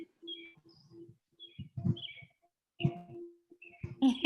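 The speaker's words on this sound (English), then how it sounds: "it sounds like somebody with a bird might be unmuted" A pet bird chirps over an unmuted call, with scattered short tweets and calls at moderate distance between quiet gaps, growing busier and louder at the end.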